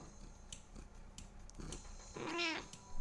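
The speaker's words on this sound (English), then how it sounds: "Kitty's here, of course, too." A cat gives a single short meow near the end, faint and close, over quiet room background with occasional light ticks.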